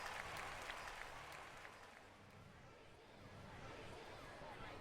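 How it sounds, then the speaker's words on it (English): A concert audience claps in a sustained, dense burst of applause that gradually thins, with faint crowd murmur underneath. "The audience clapped"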